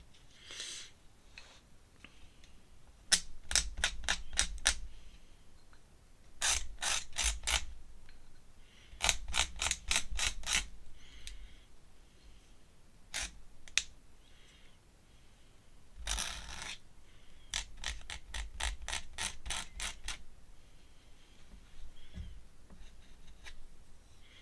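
A bent pen nib scratching and dragging across paper during an ink drawing of a horse, heard as close, dry bursts of quick repeated hatching strokes separated by short pauses.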